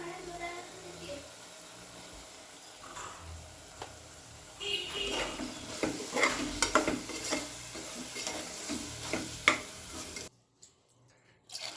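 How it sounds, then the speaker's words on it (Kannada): Food cooking in a little oil in a pan for tomato rice, a steady sizzle with scraping stirs that grow busier partway through, then a sudden drop to near silence at the end. "ಇದೊಂದು ಸ್ವಲ್ಪ ಆಯಿಲಲ್ಲೇ ಬೇಯಬೇಕು"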